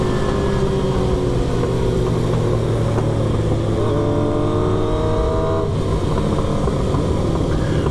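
A Yamaha R1 sport motorcycle with a dual exhaust rides along a long hill on a Memorial Day ride-out, its engine droning loud and steady throughout with shifting pitch as it holds speed.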